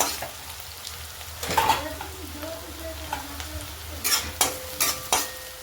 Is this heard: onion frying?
yes